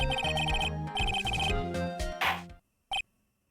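A cell phone rings in the video game Phoenix Wright: Ace Attorney – Justice for All, playing a repeating electronic melody over game music, then cutting to silence followed by one short chime.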